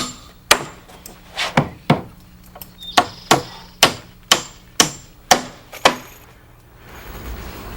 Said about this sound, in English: Joe nails a 2x6 to either side of the post and beam to lock them in place.